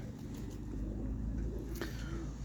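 Roller pigeons from a flock kept and flown as a kit coo in low, soft, steady murmurs close by, with a constant hum of outdoor ambience underneath.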